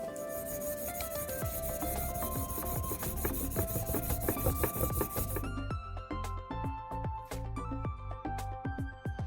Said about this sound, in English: That was a lot of burnishing.